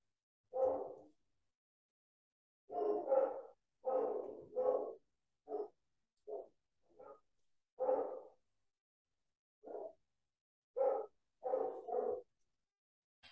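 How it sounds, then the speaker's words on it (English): Dogs bark in the background in short separate bursts, alone and without talk, some single and some doubled, spread irregularly over about thirteen seconds at a moderate, slightly distant level. "Sorry about the dogs."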